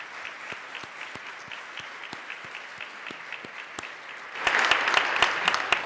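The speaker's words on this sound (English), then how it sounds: "Let's give all of those extraordinary students a round of applause." Applause from a crowd at a career and technical school commencement ceremony, scattered claps at first that swell into fuller, louder clapping toward the end.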